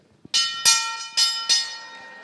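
A brassy wrestling ring bell struck four times in quick, uneven succession, each clang ringing out and fading, loud and close.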